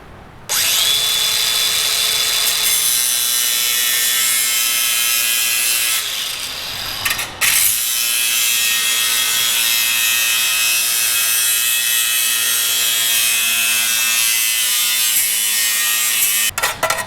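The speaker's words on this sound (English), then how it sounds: "take an angle grinder and cut a straight line to connect these two circles" Angle grinder cutting a straight line through sheet metal on a 45-year-old John Deere combine, a loud continuous high whine with a brief dip in the middle before the cut resumes.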